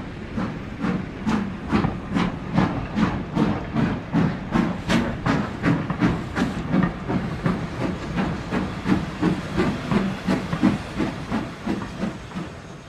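LNER V2 class Green Arrow steam locomotive working hard, sharp rhythmic exhaust beats ringing out loud and close, roughly two per second, over a continuous hiss of steam.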